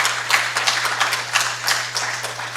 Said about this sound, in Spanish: Denle palmas al Señor porque es eso.